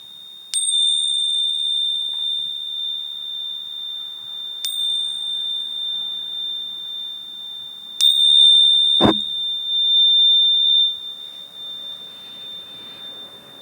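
A crystal singing bowl struck and ringing, several clear sustained tones that start one after another and hang in the air, with a sharp knock in the middle.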